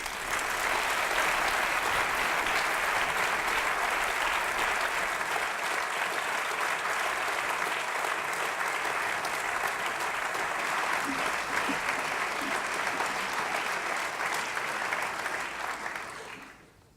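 Sustained, loud, dense audience applause welcoming the president of the Council of State at a civic celebration in Yverdon-les-Bains, steady throughout before fading out at the end.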